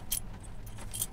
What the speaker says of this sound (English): Now they do give you the keys in here too.